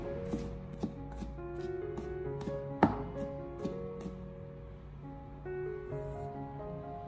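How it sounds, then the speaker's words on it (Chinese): Garlic cloves, first smashed flat, are minced with a kitchen knife on a cutting board, giving a run of quick, close chopping taps with one sharper strike partway through. "最后再剁成蒜末。"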